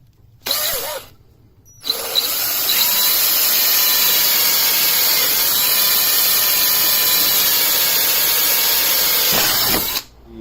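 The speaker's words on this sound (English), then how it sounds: "we just got to drill a hole in here so we can put a bolt there" Power drill boring a hole through a Hummer H3 body mount: a short burst, then a long steady high-pitched whine for about eight seconds, loud and close with no talk.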